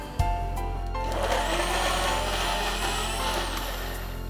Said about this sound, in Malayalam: ആദ്യം ഒന്ന് ബ്ലെൻഡ് ചെയ്യാം.